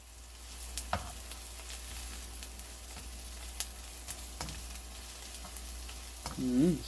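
Chopped celery frying in a pan, a continuous close sizzle with occasional stirring scrapes and a brief clatter near the end.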